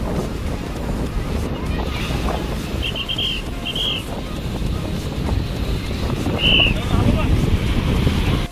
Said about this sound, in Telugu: అలలు చూసారా ఎంత పెద్ద పెద్దగా వస్తున్నాయి.